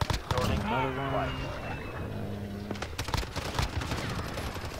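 Gunfire from the Bizon submachine gun in Call of Duty: Modern Warfare, rapid sharp bursts peppering a noisy match, with talk and tonal game sounds mixed in.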